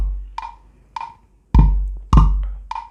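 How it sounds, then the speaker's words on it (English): Classic drum machine pattern built from GarageBand for iOS stock sounds, playing alone: crisp clap or snare hits at a steady pulse, with two deep booming kick hits landing in the middle of the bar. "It's the classic drum machine."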